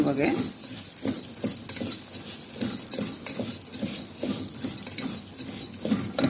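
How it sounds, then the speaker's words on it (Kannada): Broken red Kerala brown rice being roasted in ghee is stirred with a spoon, giving rhythmic repeated scraping and light sizzle, while a voice speaks briefly. "ಇದನ್ನು ಚೆನ್ನಾಗಿ ಹುರ್ಕೋಬೇಕು ನಾವು"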